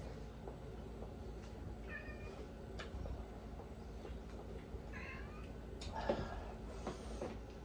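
Cat meowing several times in short, faint calls over a steady low background rumble, with a slightly louder mew toward the end.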